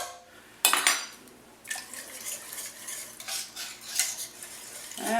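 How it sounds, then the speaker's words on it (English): A metal whisk scrapes and clinks against a pan while stirring sauce for chili cheese enchiladas, with a sharp clatter followed by irregular, moderately close rattling strokes. "Better use my whisk for this."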